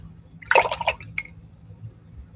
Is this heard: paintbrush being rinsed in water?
yes